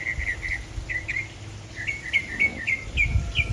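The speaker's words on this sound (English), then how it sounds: "The birds are singing" Birds chirp repeatedly in short, bright phrases over a steady low outdoor rumble, with no voices.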